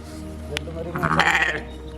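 A three-day-old newborn goat kid or lamb gives one short, wavering bleat, close and fairly loud, over a low steady hum.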